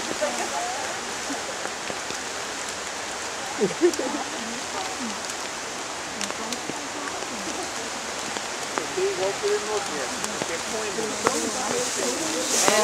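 Steady rain falls outdoors in a rural town, a dense continuous hiss of drops on surfaces with people talking intermittently over it.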